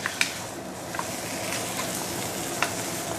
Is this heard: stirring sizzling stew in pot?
yes